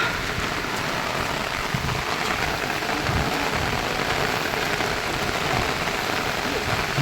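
Heavy rain pouring steadily in a rural province, a dense continuous hiss of drops on surfaces with low rumbling underneath, loud and unbroken.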